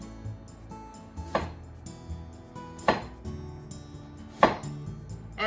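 A knife slices carrot into thin slices for a Valentine's bento, with three sharp, separate cuts on a board at steady intervals, close and clear over a quiet kitchen background, no talking.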